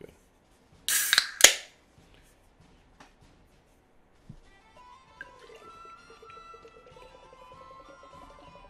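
O'Hara's nitro Irish stout opens with a couple of sharp cracks and hisses, then pours softly and steadily into a glass as a faint continuous trickle after a short pause.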